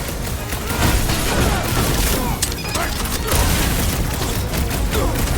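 Video game battle in Guardians of the Galaxy: dense, loud bursts of gunfire and booming impacts fill the scene continuously, with shouted voices mixed into the chaos.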